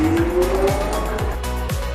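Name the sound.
forklift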